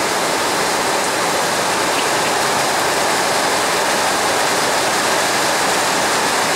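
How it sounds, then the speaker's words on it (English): Steady, heavy rain hisses continuously on a leaking carport, an even wash of falling water with no breaks or voices. "So it's raining, as you can hear."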